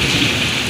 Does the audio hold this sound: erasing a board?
no